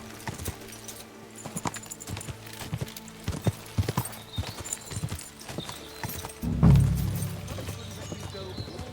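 Horse hooves clip-clop steadily in a medieval game world, a brisk rhythmic beat up close, ending in a loud snort or whinny as the horse pulls up, with someone talking over it.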